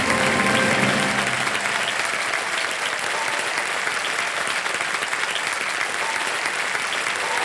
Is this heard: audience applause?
yes